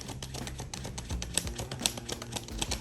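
Tarot cards being shuffled by hand, a rapid run of light papery clicks and flutters that carries on steadily, close and fairly soft, over a low musical background.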